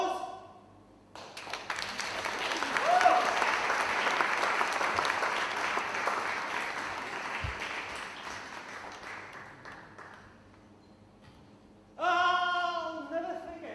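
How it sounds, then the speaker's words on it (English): An audience breaks into sustained applause, a dense wash of clapping that swells and holds for several seconds before gradually fading, then a voice begins speaking at the end. "Cue applause."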